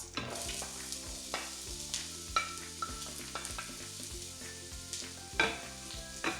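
Onion frying in a pot with a little oil, a steady sizzle with stirring scrapes and occasional clinks, close under a quiet, steady background hum.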